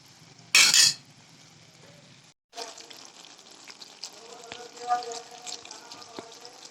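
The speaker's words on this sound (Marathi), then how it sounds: "आणि आपण आता हिला शिजू द्यायची भाजी. कमी आचेवर शिजवायची." A vegetable curry of black chickpeas and val bean pods simmers on low heat, giving a steady soft sizzle with faint stirring. A loud burst comes first, then a short pause before the cooking sound resumes.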